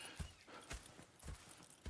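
Horse hooves clip-clopping in Red Dead Redemption 2, a faint, even series of soft thuds at a walking pace, with the muted game ambience in between.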